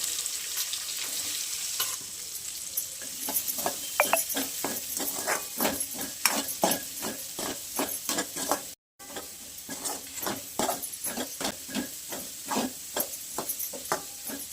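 Onions sautéing in a pan for dum aloo give a steady close sizzle, broken by repeated rhythmic scrapes and taps of a spoon stirring against the pan, with one brief dropout.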